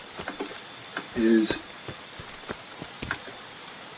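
Light rain in the shooter game Escape from Tarkov, with scattered droplet ticks and soft patter on surfaces, faint and irregular, while someone speaks briefly at one point.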